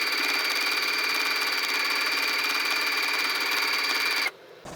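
A sewing machine at medium stitch length runs a steady, continuous seam along a Dollar Tree placemat being sewn into a Christmas stocking, a close, even mechanical whir that stops abruptly near the end.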